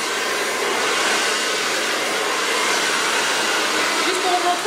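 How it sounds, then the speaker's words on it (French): A handheld hair dryer blows hair dry through a brush during a tannin hair-straightening treatment, giving a steady, close, unbroken roar of rushing air that holds at the same level throughout, with no talking. "Donc je vais sécher comme ça rapidement à la brosse."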